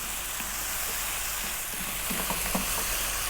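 Chicken fried rice with dark soy sauce frying over high heat gives a steady, close sizzle and crackle, with a few louder spatters near the end and no voices.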